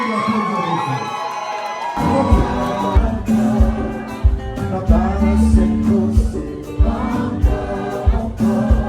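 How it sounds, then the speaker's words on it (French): A crowd at an International Women's Day evening event bursts into loud cheering and applause after a quiet opening, with whoops and shouts rising over a steady roar that continues to the end. "je vous demande d'applaudir."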